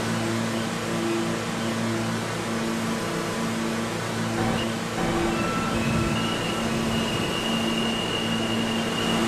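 An R160A M subway train runs in Roblox with a steady rumbling roar and a few sustained tonal hums from the motors, continuous and close, with no talk.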